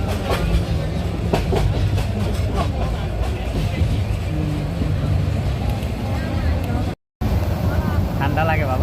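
A moving passenger train on a trip home in Bangladesh, a loud continuous rumble with rhythmic clickety-clack of the wagons, a voice talking over it and a brief dropout of sound near the end.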